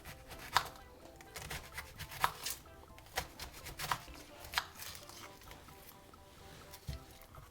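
A knife dices an onion on a cutting board in a home kitchen, giving irregular sharp chopping taps that come close and fairly quiet with short pauses between bursts.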